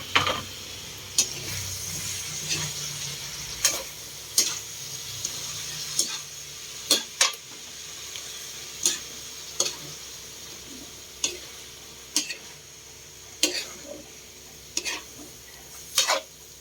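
Bitter gourd (ampalaya) sizzles and crackles in a frying pan while being stir-fried, with a steady hiss underneath and sharp scraping clacks from the spatula at a regular pace, close and moderately loud.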